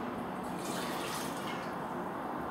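Salt water poured steadily into a pan, a continuous close rushing splash of liquid that holds level for the whole moment with no talk over it.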